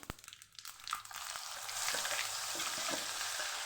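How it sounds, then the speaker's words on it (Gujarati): Whole spices and a leftover masala with cumin and asafoetida tempered in hot oil, a loud continuous sizzle that swells and stays steady to the end, with a few sharp crackles near the start. "આપણે જે મસાલો બચેલો એ આપણે હવે વઘાર કરશું"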